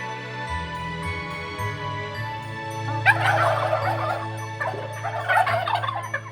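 Several big turkeys at an arboretum gobble in loud, rapid bursts. One bout runs mid-clip and a second follows near the end, over a steady low rumble.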